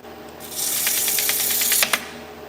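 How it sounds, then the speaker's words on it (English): Nuts being sanded by hand, a rapid rasping scrape repeated in quick strokes for about a second and a half, fairly loud and close, ending with a sharp knock. "So I just like to do it by hand"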